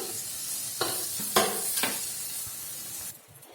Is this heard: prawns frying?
yes